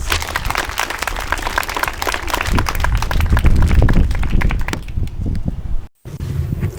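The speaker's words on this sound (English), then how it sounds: "Let's go ahead and give her another round of applause." Audience applause at a ribbon cutting ceremony for a launchpad, a dense run of clapping that swells through the middle, drops out briefly near the end and then resumes.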